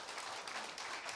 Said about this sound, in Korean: 진짜라고 생각하신 분은 나 자신을 위해서 박수 한번 쳐드리세요